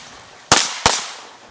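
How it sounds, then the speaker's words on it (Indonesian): Two sharp, loud Glock pistol shots in quick succession at a military shooting range with 20-meter targets, each cracking close by and trailing off with a short echo. "latihan menggunakan senjata laras pendek jenis Glock, prajurit diuji dengan sasaran berjarak 20 meter masing-masing 5 tembakan"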